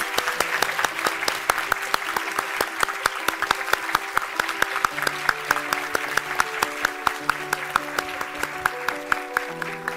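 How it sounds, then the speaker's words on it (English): Dense, sustained applause from an awards-night audience honouring sustainability winners and nominees, loud and continuous over steady background music with sharp clap peaks throughout. "Let's give all our winners and nominees another big round of applause"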